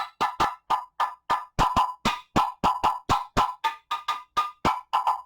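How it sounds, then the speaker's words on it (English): A steady run of about twenty sharp, hollow wooden taps of a drumstick striking a guiro, each clipped short, played close in an even rhythm like a wood block. "Like you would a wooden block."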